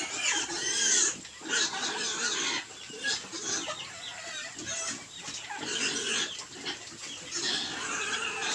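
Several Large White piglets squeal and grunt continuously in a farm pen, a dense, loud chorus of overlapping animal calls with chicken-like clucks mixed in and no talking.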